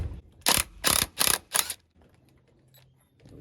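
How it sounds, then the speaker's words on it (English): An impact gun with a 15/16 socket loosens the prop lock nut on a Mercury Mariner 40hp outboard: four sharp rattling bursts in quick succession, close and loud, then quiet. "grab the impact gun, again 15/16 size, and loosen and remove that lock nut"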